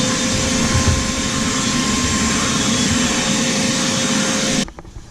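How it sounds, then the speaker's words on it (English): A vacuum cleaner runs loudly and steadily while cleaning out the cabin filter housing of a Nissan Sentra, its roaring hum and airy hiss continuing close up before cutting off abruptly near the end. "I should probably vacuum this out."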